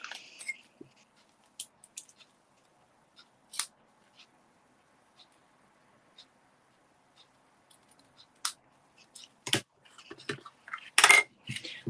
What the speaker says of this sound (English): And use my ribbon scissors.